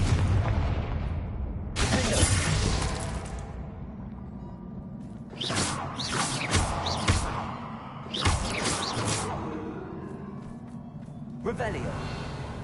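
Confringo blasting curses from Hogwarts Legacy erupt in repeated booming explosions, several heavy bursts with bright crackling tails spaced a few seconds apart, with a voice talking throughout.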